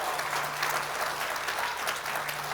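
Congregational applause rings out during a church service, a continuous dense wash of many hands clapping at moderate distance, with no talking over it.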